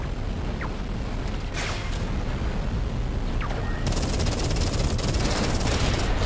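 Laser gunfire in the space combat game Everspace 2, with a dense, continuous rapid-fire stream and several whooshing zaps that grow busier and brighter toward the end, loud and steady without talk.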